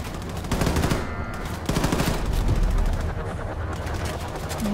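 Enemy gunfire in the shooter Wolfenstein II: The New Colossus, sustained rapid machine-gun bursts rattling loudly and continuously, with short breaks between volleys.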